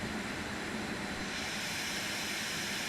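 Steady broadband engine roar from an aircraft in flight in Microsoft Flight Simulator, near Zakynthos, a constant dense whoosh with no breaks and no voices.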